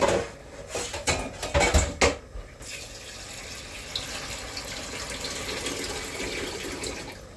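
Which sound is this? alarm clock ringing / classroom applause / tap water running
tap water running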